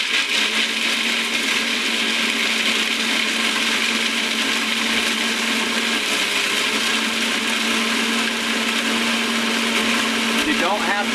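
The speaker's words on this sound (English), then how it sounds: "If the safety is not latched, the processor will not operate." A food processor grinds pistachios into nut butter, a loud continuous whirring motor drone that holds steady and close throughout with no pauses.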